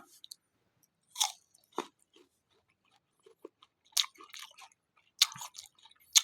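Crisp bites and chewing on a giant jujube dipped in chili salt, heard close up as several separate crunchy bursts with quiet pauses between them and no talking.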